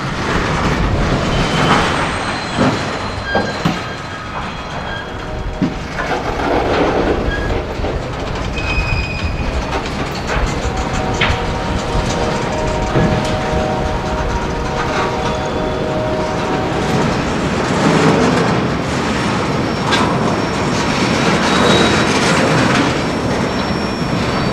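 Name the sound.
freight train 474 with CSX and Norfolk Southern diesels passing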